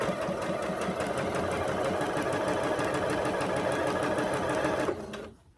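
Sewing machine running steadily while stitching a quarter-inch seam with a quarter-inch presser foot, a fast continuous mechanical whir lasting about five seconds before slowing and stopping near the end, with no talking.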